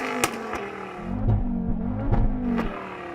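Audi TT RS-R with a tuned five-cylinder turbo exhaust revving up close, a loud, rough throbbing drone with sharp crackling pops scattered through it, no voices.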